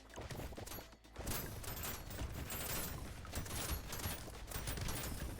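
A Gatling Laser fires nonstop in the game Brotato, a dense, loud stream of rapid zapping shots.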